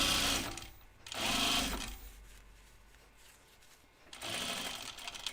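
A sewing machine stitches in two loud, steady bursts with a quieter pause between them, its rapid whirring run close by with no talking.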